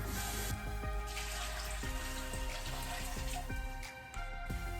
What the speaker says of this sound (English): Let me get a little water in that pot.